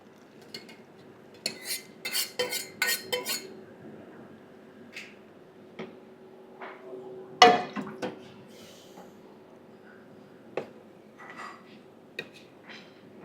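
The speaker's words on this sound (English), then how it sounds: "Now we are going to put the boiled lentil in the pan." Boiled lentils are tipped into a pan of tempering and stirred, giving scattered spoon clinks, scrapes and soft wet stirring noises, with one louder clatter midway and quiet stretches between.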